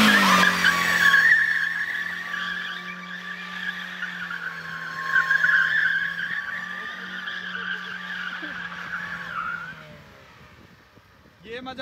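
A Honda Civic drifting with a long, loud tire squeal that holds steady for around ten seconds and then cuts off, with a voice briefly audible near the start.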